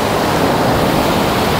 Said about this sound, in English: Really windy out.